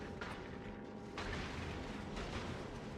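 A dense, rumbling explosion sounds in the factory game Factorio amid asteroids, a thick broadband roar with a couple of swelling bursts, steady and close for about three seconds.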